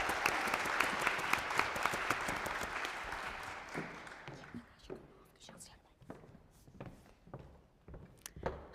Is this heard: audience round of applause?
yes